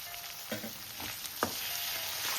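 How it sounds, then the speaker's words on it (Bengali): A steady hiss of grated coconut frying in a pan, with a few light scrapes of stirring, close and moderately loud, and no talking. "নারকেলটা একটু লাল লাল করে ভাজবো"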